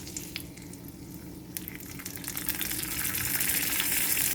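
Hot mustard seed tempering with curry leaves is poured into cucumber and curd pachadi, giving a close, steady gushing sizzle that swells and grows brighter toward the end, with no voices.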